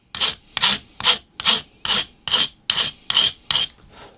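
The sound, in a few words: hand file smoothing the end of cast cement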